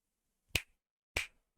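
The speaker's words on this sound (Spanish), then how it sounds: "Ahora, si yo hago el chasquido," Two crisp finger snaps about half a second apart, recorded close on a budget Neewer NW800 condenser microphone with a filter active, each a sharp dry click with a short tail and silence around it.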